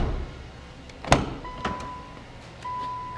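Power seat motor in a used Subaru Legacy: a sharp click, then two steady electric whirring runs close by, the second starting after a brief pause.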